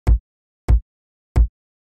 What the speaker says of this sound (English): The first thing is the kick, sounds like this